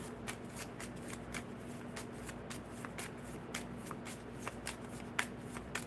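A deck of gemstone cards is shuffled during a spirit-message card reading, a steady run of close, quiet riffling flicks and soft snaps over low room hum, without talking.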